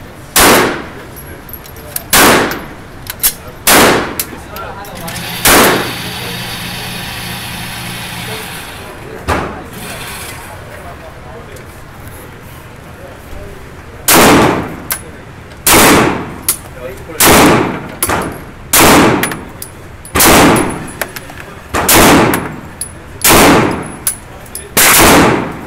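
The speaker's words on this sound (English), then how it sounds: "we're gonna try out the Glock laser" Glock 17 pistol gunshots fired with a laser attached outdoors, loud sharp single reports, a few spaced early and then a steady series of about ten evenly timed shots, with an engine-like hum in between.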